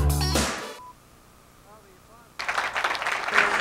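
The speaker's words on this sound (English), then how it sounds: "the applause is for our runner-up team just coming up a little bit short." Studio audience applause for the runner-up team at the end of a Stars & Strikes doubles bowling match; after a brief voice and a quiet pause, loud, dense clapping breaks out and continues to the end.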